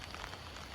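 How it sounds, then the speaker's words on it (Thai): Rain falls outdoors by a pond, a soft, steady hiss of drops with faint patters scattered throughout, distant and quiet with no voices. "บรรยากาศฝนตกพี่น้อง"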